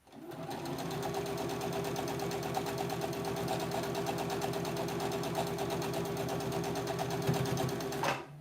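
A sewing machine stitches quilt pieces at a steady, fast mechanical rhythm, close and continuous for about eight seconds before it stops abruptly.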